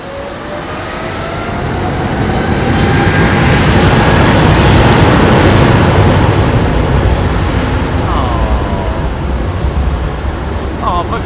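Emirates airliner landing at London Heathrow, a loud, broad jet roar that swells over the first two seconds and holds steady, with a faint rising whine and someone talking over it.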